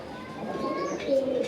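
Raj golla pigeons give a short, soft, nearby coo with low throaty warbles, which swells toward the end as a voice murmurs in the background.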